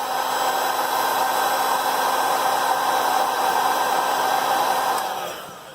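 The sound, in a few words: heat gun blowing hot air on iPhone camera glass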